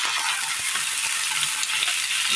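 Broccoli fries in a pan for a Kerala-style curry, giving a steady, close hiss of sizzling oil broken by soft stirring scrapes.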